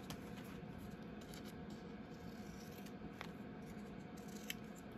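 Scissors snipping through scraps of fabric swatch material, a steady close-up rasping and crunching with a few sharper clicks, heard alone without talk.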